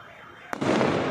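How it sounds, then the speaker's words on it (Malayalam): A sharp Diwali firecracker burst followed by a dense wash of crackling pops and noise, with faint voices underneath. "പടക്കമൊക്കെ പൊട്ടുന്നുണ്ട്"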